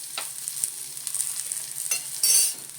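Six or seven garlic cloves fry in a pan on the stove, giving a soft steady sizzle with faint scraping stirs and a louder hissing burst near the end.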